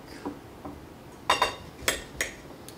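A knife slicing a chunk off cut pineapple: a few faint, sharp clicks and taps of the blade against a board, close by and quiet, spaced unevenly.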